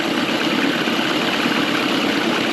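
Steady idling of an outboard motor left in gear, a continuous even engine hum at close range with no talking.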